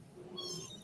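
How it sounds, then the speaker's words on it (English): A kitten gives a single faint, thin meow, brief and somewhat distant, with no talking over it. "Oh, look at the little kitten."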